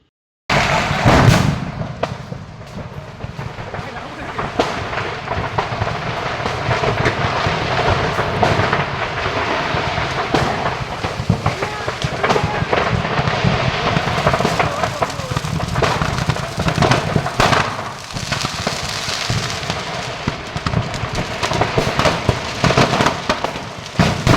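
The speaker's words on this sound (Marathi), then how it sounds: "आग लागताच फटाक्यांना त्याची झळ लागली" Stored firecrackers in a burning godown near Nashik Road explode in a long, loud barrage of bangs and crackles, the blasts overlapping with a roaring fire and muffled voices underneath.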